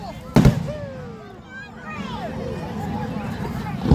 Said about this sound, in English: Ooh, it's a rocket. Rocket going.